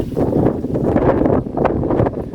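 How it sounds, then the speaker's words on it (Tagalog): Strong, steady wind buffets the microphone with a loud, continuous roar and gusting rumble throughout. "Sobrang hangin dito, guys."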